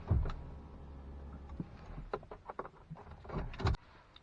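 Motorized power seat of a Toyota Tundra sliding into position as the steering wheel moves back down for memory settings, a low steady whirring hum with a few faint clicks and thumps, ending with a louder knock near the end.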